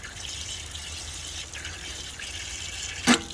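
Steady water rushes and hisses in a continuous flow from an Atwood RV water heater drain, ending with a brief sharp clank.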